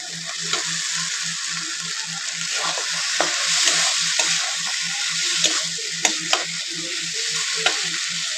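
Fried soybean chunks are stirred into a sizzling, well-cooked spice masala sweetened with a little sugar. A steady close sizzle runs under quick, regular scraping strokes and a few sharp clinks, with no talking.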